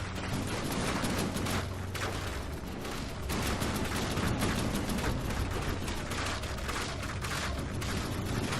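Massed simple cannons firing from a vehicle in From the Depths, a dense, continuous barrage of overlapping blasts and booms that stays loud and unbroken throughout.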